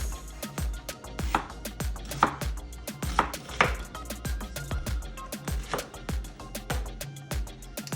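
A knife chops vegetables such as onions and bell peppers on a cutting board while pork chops and mashed sweet potatoes are prepared. The sharp, steady cuts come up close in an uneven rhythm and carry on through the whole stretch without talk.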